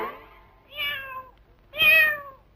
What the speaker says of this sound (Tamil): இல்ல பூனை. பூனை. பூனை.